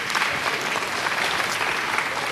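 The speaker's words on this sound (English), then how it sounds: "Give them a round of applause again." Steady applause from a workshop audience fills the room, dense and continuous throughout without any speech.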